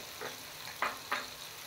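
Garlic added to a pan while pangas fish curry cooks, giving a soft frying sizzle with three short bursts of stirring or spooning close to the pan.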